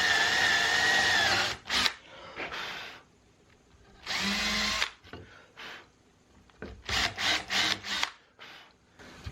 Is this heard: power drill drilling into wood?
yes